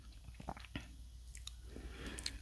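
Ice rings and finely crushed ice are chewed close up, with several crisp crunches and soft squishy bites in quiet surroundings.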